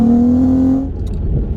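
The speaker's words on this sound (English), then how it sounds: "Let's have another little blip of the throttle" Volkswagen Golf R32 engine blipped on the throttle, a loud, close rising drone that holds briefly and then cuts off abruptly into a low idle rumble.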